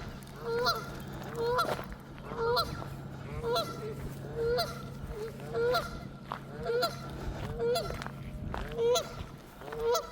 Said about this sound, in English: That goose is not happy.